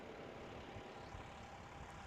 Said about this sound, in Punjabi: ਆ ਗਿਆ ਜਹਾਜ਼ ਮੁੜਿਆ ਇਹ ਦੁਬਾਰੇ